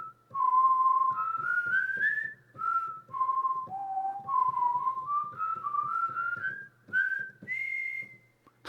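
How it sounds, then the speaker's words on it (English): A sampled whistle ensemble from the SWING! library by ProjectSam: several whistled tones move together in a bright, melodic phrase, rising and stepping between notes in short bursts with brief pauses. "And then there's a whistle ensemble."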